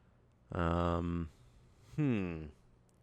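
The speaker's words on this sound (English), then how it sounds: "there's a loud bird outside that I'm not sure if you guys can hear or not" A loud bird calls from outside, giving two long, tonal, harmonic cries separated by a short pause, clearly standing out above a quiet indoor background.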